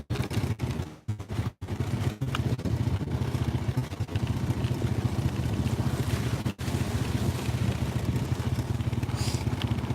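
A four-wheeler drives along a wooded trail in autumn, its engine a steady rumbling drone with wind buffeting the microphone and a few sharp clatters near the start.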